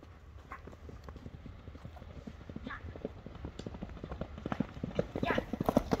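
A horse runs fast over the ground, its hooves striking in a steady, rapid clip-clop that grows louder and nearer toward the end, with people's voices heard alongside.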